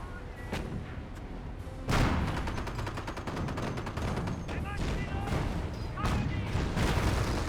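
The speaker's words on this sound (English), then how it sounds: "Hellcat taking some fire there." A Hellcat tank destroyer comes under gunfire in Company of Heroes: a loud sustained barrage of rapid shots and heavy booms, thickening after a sharp onset, with a voice talking over the battle.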